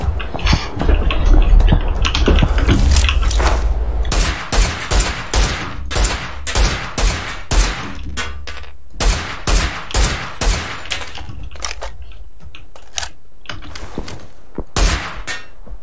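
Gunfire in a shooting video game, loud bursts and rapid volleys of shots, then scattered single cracks and short rattles, close and sharp with no talking.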